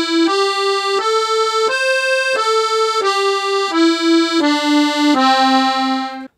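Piano accordion playing a zydeco riff on the C pentatonic scale: eight reedy, sustained notes in an even rhythm, stepping up and back down, played clearly and loud with no talking.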